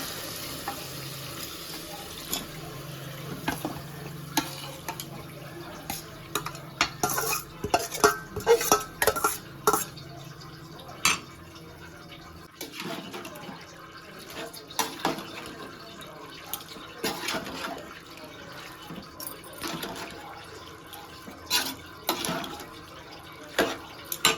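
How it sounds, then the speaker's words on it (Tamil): Goat intestine gravy with onions being stirred in a pan, heard as scattered scraping and clinking from a spoon against metal over a soft wet background, with no voices. "அதை நல்லா கலரி விட்டாச்சு"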